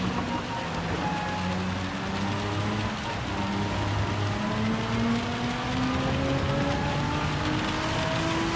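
Steady rain in the VR racing game Dragon Trail, a continuous hiss of falling water under a rising engine drone, loud and constant throughout with no talking.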